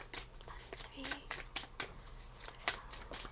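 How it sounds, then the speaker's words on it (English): Tarot cards riffled and shuffled by hand in a quiet room, a run of crisp, irregular flicks and slaps close to the mic, with soft speech running underneath. "think of your question while I shuffle."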